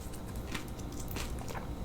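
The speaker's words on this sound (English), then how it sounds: "It's a little crunchy because these granules are also double encapsulated." Close, quiet crunching and chewing of small double-encapsulated supplement granules, a steady gritty texture with soft crackles throughout.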